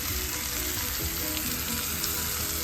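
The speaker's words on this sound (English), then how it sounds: "Cook that fat cap down." The fat cap of a thick picanha steak sizzles on a grill in a loud, continuous hiss and crackle with scattered small pops, close and steady throughout, with no voices.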